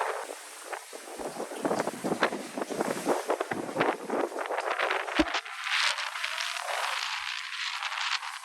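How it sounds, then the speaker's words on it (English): Strong wind buffets the microphone on a ship's deck crossing the Drake Passage, a loud continuous roar with gusting surges throughout. "It's windy."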